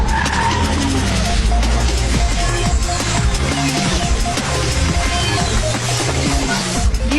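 A car skids with loud squealing tires and then drives off, a dense, continuous engine roar and screech filling the whole stretch at close range.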